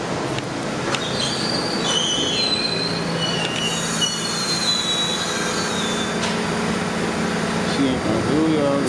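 Subway train wheels squeal in high, shifting whines at the 125th Street station in New York, with rumbling rail noise underneath and people talking over it nearby.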